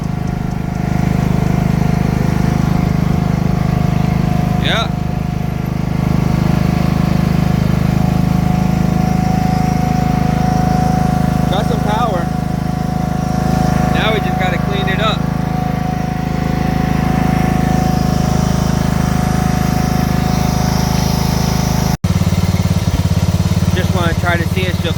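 A Craftsman DYT riding lawn tractor engine runs steadily and loudly while the tractor drives and shifts gear. Someone talks intermittently over the constant drone.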